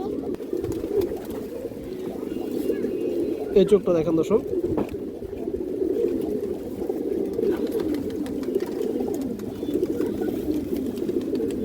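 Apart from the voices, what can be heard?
pigeons cooing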